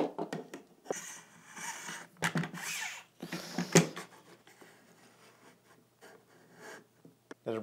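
Small metal parts of a Smith & Wesson M&P FPC 9mm folding carbine being handled during reassembly as the bolt is fitted, giving light clicks and scrapes with a couple of sharper metallic knocks near the middle, close and fairly quiet.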